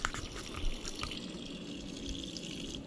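Cold water runs from a tap while a Civil War relic bullet is rinsed, a steady soft splashing stream with small irregular drips and knocks, fairly quiet and with no talking.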